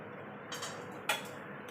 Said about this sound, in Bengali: তার জন্য আমি গ্যাসটা ধরিয়ে দেবো